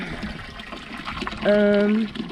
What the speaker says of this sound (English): finally I'm getting some cool water. So I gotta hook it in there like that.